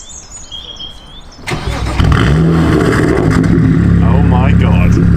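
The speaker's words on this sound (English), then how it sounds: "they've basically done him a custom straight-through exhaust, and this is what it sounds like" A BMW 135i coupe with a custom straight-through exhaust starts and revs loudly up close, its engine roar jumping in after a quiet start with birdsong, then holding a raw, rasping drone with rising rev sweeps.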